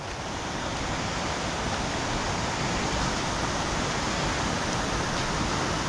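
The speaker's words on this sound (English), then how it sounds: "here we are, back at the top of the waterfall" Steady, dense rush of a waterfall heard from the top of the falls at Gayle, a broad unbroken roar that stays level and close throughout, with no voices.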